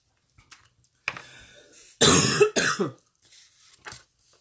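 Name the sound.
cough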